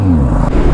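A Kawasaki Z900 motorcycle engine revs in a short, loud burst. The throaty, steady growl sits close to the listener.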